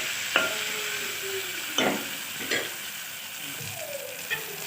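Ingredients for mutton curry fry in a pan with a soft, steady sizzle, broken by a few sharp clanks and scrapes of a spoon stirring against the metal.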